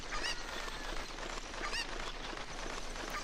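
A chicken in The Legend of Zelda: Ocarina of Time clucks and squawks, with two bright calls standing out over continuous game background noise.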